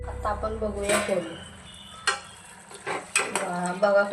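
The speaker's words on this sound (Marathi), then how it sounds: "आता आपण बघूया फोडणी." Whole spices for a Marathi phodni crackle and sizzle in hot oil, with a loud burst at the start and stirring and clinking of a spoon against the pan throughout.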